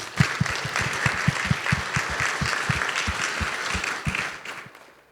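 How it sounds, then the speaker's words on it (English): A conference audience breaks into dense, lively clapping that holds steady for several seconds, then thins and fades out near the end. "Give yourselves a round of applause."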